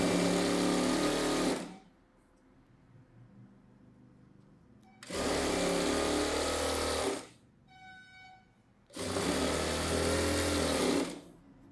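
A sewing machine runs edge stitching along a saree blouse in three close, loud bursts, each a few seconds long, separated by short pauses.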